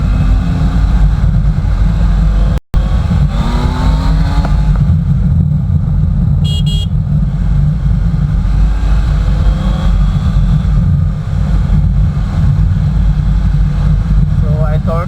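A Triumph Tiger adventure motorcycle with an Arrow exhaust rides along with a steady, loud engine drone and rising tones, plus a sharp brief knock near the start.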